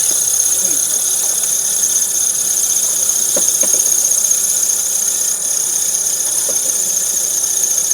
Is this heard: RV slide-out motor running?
yes